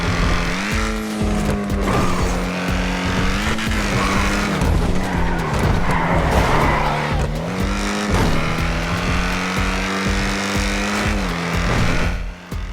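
An Ocelot Jugular's engine howls through a lap of Los Santos in GTA Online, its pitch repeatedly climbing then dropping with gear changes, loud and close, with tires squealing through corners and no talk.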